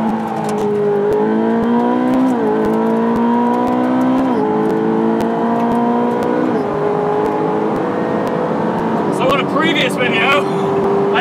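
A supercar engine on track, with the paddle shifter held in, auto-downshifts repeatedly: loud engine drone that drops in stepped pitch shifts several times in sequence, with a sharp burst near the end and voices faintly underneath.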